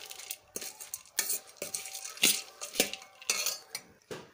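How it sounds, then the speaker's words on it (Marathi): Wet bhel being spooned from a bowl onto a plate, with close, uneven clinks and scrapes of the spoon against the dishware in short repeated bursts and no voices. "आपण एका प्लेटमध्ये काढूयात आता आपली भेळ।"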